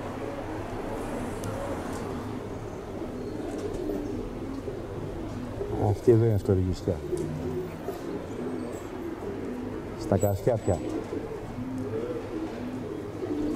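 Pigeons at a Thessaloniki pigeon club gathering coo softly and steadily in the background, with a couple of louder bursts of flapping or calls, while someone talks over them.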